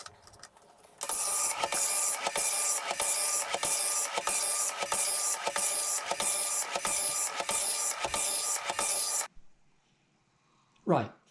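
An Atari 1029 dot matrix printer prints for about eight seconds, its head rasping in a steady run of evenly spaced bursts, loud and close, then stops abruptly into near silence.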